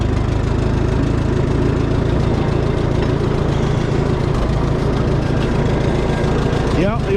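An old tractor with a 403 engine runs steadily at close range, a loud, continuous low rumble with an even mechanical throb throughout.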